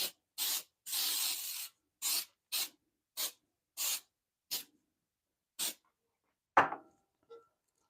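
Cooking spray hisses onto a brand-new, unseasoned Victoria cast iron 12-inch skillet in a run of short, close bursts, roughly eight to nine sprays of varying length, followed by a couple of quieter clinks.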